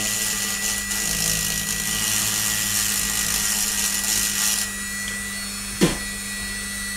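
A thin 1.2 mm carbide milling tool grinds steadily at high pitch while cutting a corner of a stepper motor part, then stops abruptly, followed by a brief sharp knock.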